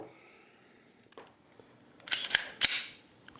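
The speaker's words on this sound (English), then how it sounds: "rack the slide on that one" A Smith & Wesson Shield EZ pistol has its slide racked, a couple of sharp metallic clacks close by after a few faint clicks of handling, otherwise quiet.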